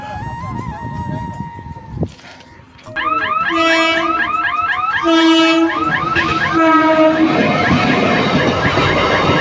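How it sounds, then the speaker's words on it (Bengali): A train passing a level crossing while the gate stays down: after a brief tone and a lull, loud rolling rail noise builds with repeated horn-like tonal blasts and dense rumbling wagon clatter, close and continuous to the end. "ট্রেনটা চলে গেল"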